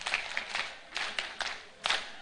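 Scattered, uneven clapping from an audience at a closing ceremony of a parliamentary retreat in Uganda, a few bursts of claps fairly faint and sparse rather than a full ovation.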